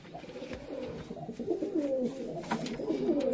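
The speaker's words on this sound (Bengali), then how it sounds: "এই যে দেখো সব ডানা লেজ কাটা রয়েছে পায়রা।" Pigeons with clipped wings and tails coo nearby in repeated soft, throaty calls that overlap and grow slightly louder toward the end, with no talking.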